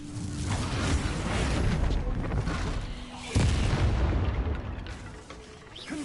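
A Bombarda blasting spell bursts in a Harry Potter video game, a loud booming blast with a sharp hit midway and a rumbling tail, amid game noise and a voice.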